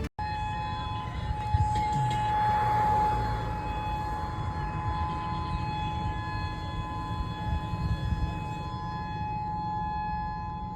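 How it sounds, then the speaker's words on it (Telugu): A civil defense tsunami warning siren in Hawaii wails steadily, its long tone rising and holding over a constant low rumble of traffic, heard from a distance with no speech. "సునామీ అలర్ట్ ఇస్తూ సైరన్ కూడా మోగుతోంది"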